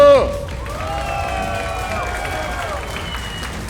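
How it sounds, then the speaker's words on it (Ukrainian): An audience at a bare-knuckle fight show applauds a fighter being introduced, a steady wash of clapping running beneath a bright, drawn-out musical sting that fades away. "Ваші оплески гостю!"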